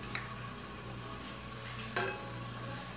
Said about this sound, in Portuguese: Tô fritando a cebola. Fritando não, tô dourando a cebola.